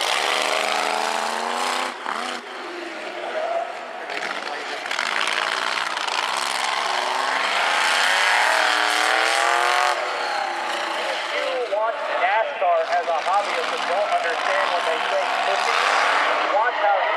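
A 1931 Ford Model A races around an autocross course, its engine drone rising and falling throughout while an announcer talks loudly over it on a public address system.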